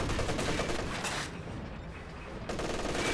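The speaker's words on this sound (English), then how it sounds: "Captured MG-34 firing away against the Oberhausen" Captured MG-34 machine gun in Company of Heroes 2 firing against Oberhausen infantry in heavy cover, with dense, continuous rattling fire and overlapping battle noise that eases briefly in the middle before surging back loud.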